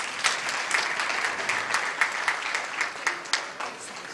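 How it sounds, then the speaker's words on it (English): Audience applause at a community political event in a banquet hall, a steady round of clapping from a crowd with sharper individual claps rising and falling over several seconds, no talk over it. "it is a round of applause for all of you and Brother Ishaq"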